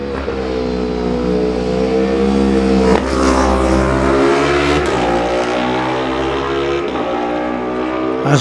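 A Honda racing motorcycle in a Manx Grand Prix newcomers road race passes at Ballacraine. The engine note climbs and drops through gear changes in a loud, close, rising whine that sweeps by.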